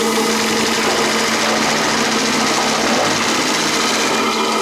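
A live steam engine in a Teuf-Teuf RC tugboat model runs hard under acceleration, giving a loud, steady, buzzing mechanical whir with a fast even rhythm and no talking.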